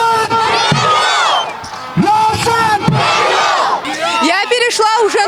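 Tajik football supporters of Ravshan Kulob roaring and chanting together in a stadium, a loud dense crowd of shouting voices rising in surging waves that continue without a break.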